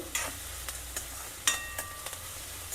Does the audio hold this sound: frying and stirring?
yes